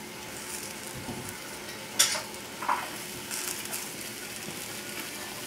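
Ground beef frying in a pot with split peas, potato and corn, a soft steady sizzle broken by a couple of clinks from stirring, quiet and close, no talking.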